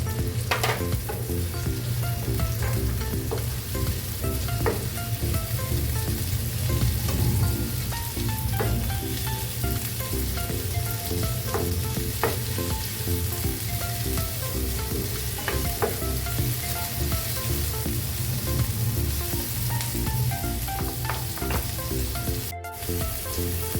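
Tomatoes and spring onions sizzle in a pan of hot oil, a steady close crackle with frequent small pops and scraping stirs running throughout without talk.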